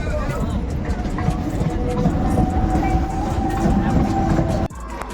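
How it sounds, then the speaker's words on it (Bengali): A passenger train rolls loudly past a station platform near Bhuteshwar on the Delhi–Mathura line, with a steady rumble and wheel clatter that ends abruptly as the last coach clears. "এই যে ট্রেন যাচ্ছে, এই ট্রেনটা এলাম ওল্ড দিল্লি থেকে ভূতেশ্বর"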